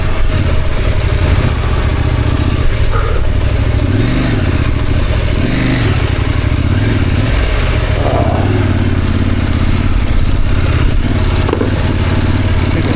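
KTM 890 Adventure R motorcycle spinning its rear tire in soft sand, a steady loud mid-pitched engine drone with a couple of rising revs and clattering roost.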